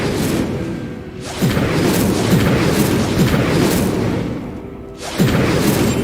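Incendio fire spell cast in Hogwarts Legacy: repeated loud booming bursts with a whooshing roar, each blast swelling and fading before the next one hits.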